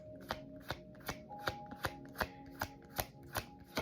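A deck of angel cards is shuffled in quick, regular riffles, about ten crisp slaps at an even rhythm, close and soft over a faint steady background tone.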